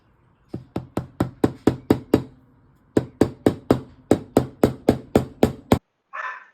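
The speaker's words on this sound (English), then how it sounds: "I have to hammer in the rest of the way." Steel letter press stamp tool hammered into leather: two bursts of sharp, rhythmic hammer blows, about eight strikes each, close and loud, separated by a short pause, then a brief rustle at the end.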